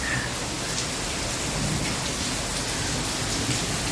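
Steady rain pours down outdoors in a Gujarati village setting, a dense continuous hiss of drops on surfaces filling the whole stretch at even loudness, with no voices.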